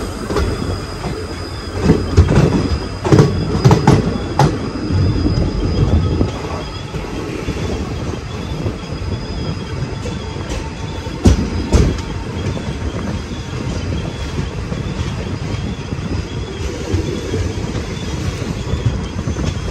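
Sirsa Express train running on rails between Bhiwani and Delhi, heard from on board: a continuous loud rumble with rhythmic wheel clatter, scattered metallic clanks and high squeals from the wheels.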